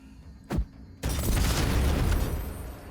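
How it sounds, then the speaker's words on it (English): In Baldur's Gate 3, fire thrown onto a bomb makes a short sharp pop, then a loud, roaring explosion that rumbles on for about two seconds before slowly fading. "My action is going to be throwing this fire onto that bomb"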